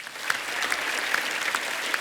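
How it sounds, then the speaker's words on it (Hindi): Studio audience applause on a televised comedy show, a dense, steady burst of many hands clapping with a few sharper individual claps standing out, fairly close and loud. "एक बार जोरदार तालियां हो जाएं."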